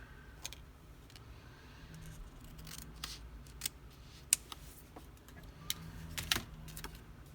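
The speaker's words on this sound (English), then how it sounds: "so I'm going to cut it off about there, and I'm going to cut a little tiny bit off at this end." Scissors snip a piece off while building a homemade workstation, giving a few quiet, crisp clicks spaced through a soft, low background hum.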